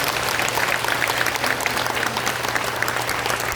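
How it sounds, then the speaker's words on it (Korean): A church congregation applauding Tanzanian missionaries and local ministry workers at a worship service: dense, steady clapping from a crowd, loud and sustained throughout. "힘찬 박수 한번 보내주십니다"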